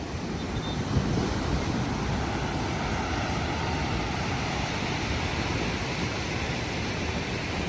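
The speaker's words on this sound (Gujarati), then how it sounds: "તો આ છે અરબી સમુદ્ર સોમનાથ મહાદેવ મંદિરના સાનિધ્યમાં" Arabian Sea waves wash onto the shore at Somnath in a continuous roar of surf, loud and broad, with wind buffeting the microphone and no voices.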